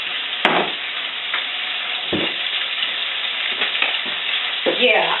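Food sizzling steadily in a hot grill pan during home cooking of a main dish, with a loud, continuous crackle and hiss and occasional stirring, close up with no talking.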